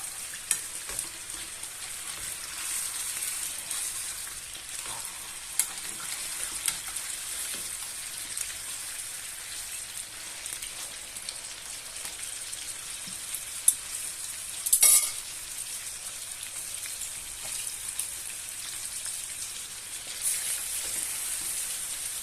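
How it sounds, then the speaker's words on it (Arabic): Chicken pieces fry quietly in a pan, a low steady crackle and hiss running throughout with occasional faint pops and one brief louder clatter, no talking. "بالطريقه هذه كنحمر هاد الدجاج، هاد الطروفه ديال الدجاج"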